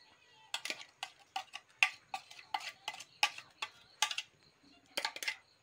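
A spoon clinks and scrapes in a bowl as ground masala is mixed into raw chicken for a Goan chicken curry made without coconut: about a dozen sharp, irregular ticks close by, with no talking.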